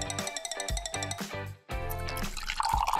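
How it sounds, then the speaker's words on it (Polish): Water trickles and drips into a seashell used as a cup, a series of small splashes and liquid plinks close by and fairly quiet, with a brief pause midway. "Dodaję wodę i dużo brokatu."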